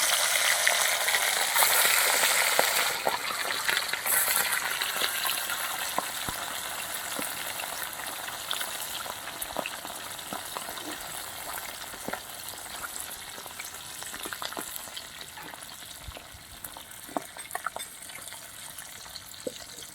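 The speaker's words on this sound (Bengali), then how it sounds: "তেল গরম হয়ে গেছে, এবার আমি মাছগুলো ছেড়ে দিচ্ছি" Hilsa fish frying in hot oil in a wok, a dense crackling sizzle with many sharp spatter pops, loudest at first then settling to a steadier hiss, close and without speech.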